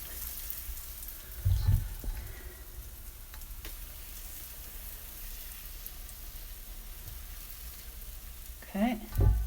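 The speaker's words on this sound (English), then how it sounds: "Here it's sizzling, it's hot," Waffle batter hits a hot waffle iron with a soft steady sizzle, quiet and close, with brief louder bursts of handling near the start and end and no talk.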